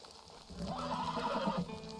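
Horses neigh and whinny in Red Dead Redemption 2, a loud drawn-out call swelling over faint hoof clip-clops and fading near the end.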